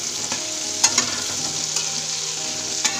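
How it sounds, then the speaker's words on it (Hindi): Soya chunks and potatoes are stirred together in a hot pan, a steady sizzle of frying running throughout with a few sharp scraping clicks of the spoon against the pan. "अब इसमें हम सोयाबीन भी डाल देंगे। इसे भी अच्छे से मिक्स कर लें।"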